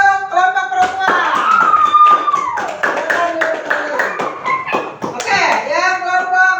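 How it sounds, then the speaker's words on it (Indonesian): Classroom applause for a women's group during an Islamic religious education session, with scattered, uneven claps mixed with children's and adults' voices talking over them throughout. "Tepuk tangan untuk kelompok perempuan."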